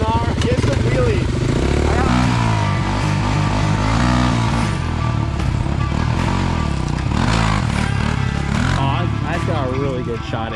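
Off-road motorcycle engine revving hard during wheelies on an outdoor ride at sunset, loud and continuous with rising and falling pitch, mixed with people talking nearby.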